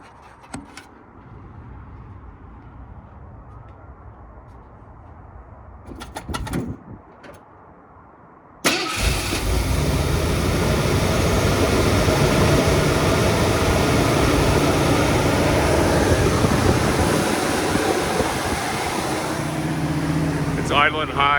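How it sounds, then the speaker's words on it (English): A 1971 Ford F250 4x4 truck engine cranks and catches after a quiet stretch with faint birds, then runs at a steady, loud, high idle on the choke, close to the listener. "You do a quick startup video."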